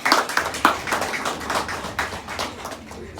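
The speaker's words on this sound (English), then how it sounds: "Go ahead and give yourself a round of applause." Scattered clapping from students at an outdoor Black Lives Matter march in Mason, sparse and uneven claps rather than a full ovation, moderately loud with some background murmur.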